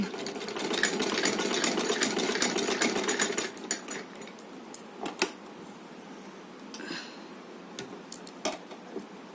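A sewing machine stitches a ribbon dress for a small Laddu Gopal idol in a fast, steady run for about three and a half seconds, then stops, leaving scattered light clicks and handling noises, fairly quiet and close.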